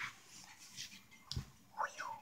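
A small dog gives soft, quiet yips and whimpers, a few brief high whines and one short low thump, close by and faint.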